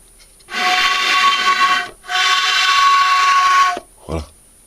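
A homemade bamboo flute whistle blown in two long, steady, breathy whistling tones, each lasting over a second, followed by a short soft knock.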